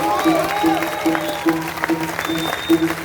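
Applause from a festival concert audience at an open-air Yörük Türkmen event in Antalya, steady clapping under a repeating music loop with bursts of crowd noise.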